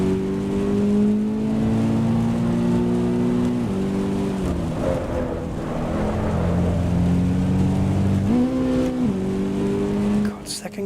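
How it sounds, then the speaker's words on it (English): Race car engine in the Assetto Corsa Evo video game on a wet track, droning at high revs through gear changes, rising and dropping in steady stretches, with someone talking over it. "God, second gear's over revving and third gear sounds like it's laboring."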